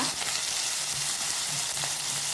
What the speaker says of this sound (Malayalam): വെളുത്തുള്ളി, ഇഞ്ചി, വേപ്പില, കറിവേപ്പില ഇത് നല്ലോണം നമുക്ക് ഒന്ന് ഫ്രൈ ചെയ്തെടുക്കാം